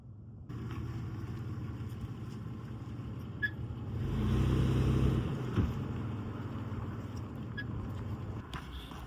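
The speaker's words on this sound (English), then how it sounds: "It's so much fun off-roading a sports car." A Subaru BRZ sports car drives off-road, its engine a steady low hum with rough road rumble that swells briefly mid-way, fairly faint and heard from inside.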